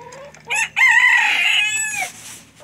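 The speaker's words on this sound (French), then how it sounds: "Mon coq, Pékin, il chante." A pet rooster crows close by outdoors on a farm, giving one loud, full cock-a-doodle-doo with a short clucking lead-in, heard alone with no talk.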